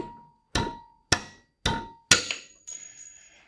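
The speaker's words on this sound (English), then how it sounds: "So I got a hammer here. I'm just going to hit this sucker and let's see what happens." A hammer strikes a steel Allen key four times in a steady rhythm, each hit a sharp metallic clang that rings and decays, followed by a fainter final clink as the key breaks.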